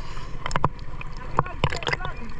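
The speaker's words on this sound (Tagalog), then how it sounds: "Nakasakay sila ng bangka." A small boat carrying people on the water while fishing in a rural Philippine setting, with paddle splashes and water knocks over wind, and voices calling out nearby.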